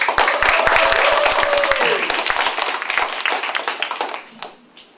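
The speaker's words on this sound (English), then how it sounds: "let's welcome her with a big round of applause" A language-camp audience gives a loud welcoming round of applause for missionary Esther Chang, with close, sharp individual claps and crowd clapping that gradually thins out and fades to quiet by the end.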